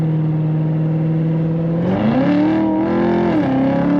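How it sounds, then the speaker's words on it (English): A 2015 Chevrolet Corvette Z06 convertible, top down, idling with a deep steady exhaust drone before the revs climb into a loud rising growl that holds, dips briefly and settles, close and alone. "this car has the greatest exhaust note I think I've heard on a modern Corvette"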